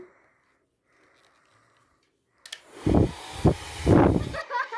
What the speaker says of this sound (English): We need a blow dryer. Turn it on, mommy.